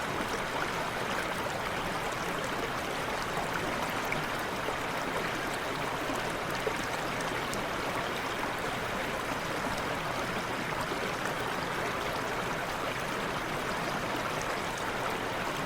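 A stream flows over rocks through a mountain forest, giving a continuous even rush and babble of water that is close and steady throughout, with no talking.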